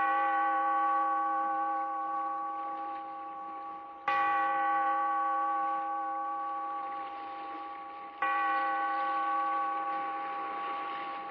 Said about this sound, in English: Bellkeeper, toll the bell, so that all may know we are gathered again